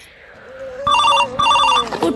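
A telephone ringtone trills in two short electronic bursts, fairly close, over a faint voice and room sound.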